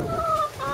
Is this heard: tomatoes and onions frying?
no